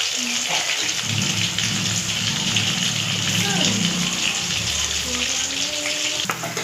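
Marinated chicken 65 deep-frying in hot oil, a steady loud crackling sizzle under a voice speaking throughout.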